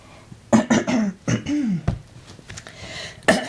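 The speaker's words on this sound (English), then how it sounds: "Morning cough." A few rough, close coughs and throat-clearing sounds, followed by a short pause and another brief cough.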